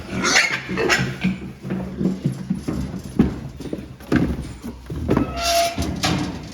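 Hooves scuffle and clatter on the floor of a farm weighing pen as a fattening pig is driven out, with a run of irregular close knocks and shuffles throughout.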